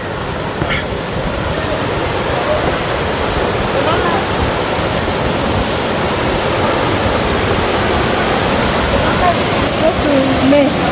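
Waterfall in Oloolua Forest in Karen, Nairobi, a steady broadband rush of falling water that stays loud and constant throughout, with faint voices briefly audible over it.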